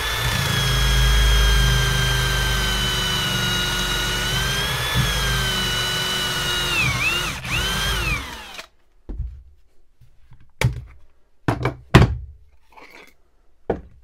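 A power drill whines steadily for several seconds, its pitch dipping as it bores a pocket hole into wood, then stops, followed by a few sharp knocks and thuds.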